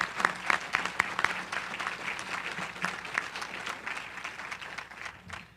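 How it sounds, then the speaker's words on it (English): A Healthy Minnesota community event audience claps for about five seconds, steady applause with scattered sharp individual claps standing out, fairly close and moderately loud. "I'd really like to give the two of them a round of applause"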